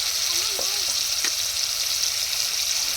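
Tomato paste and chili sizzling in a hot pan for fish curry, a steady bright frying hiss close by, with a few faint clinks and a brief murmur of voice underneath.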